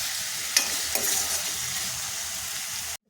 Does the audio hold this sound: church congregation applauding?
no